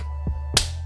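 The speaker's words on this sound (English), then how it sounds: "That was the sound of me high-fiving myself." A single sharp slap of a self high-five cracks out once, preceded by a soft thump, against quiet room background.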